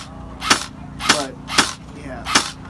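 A misfeeding airsoft gun fires four sharp, loud snapping shots at a steady rhythm about half a second apart, with a faint mechanical rattle after each one.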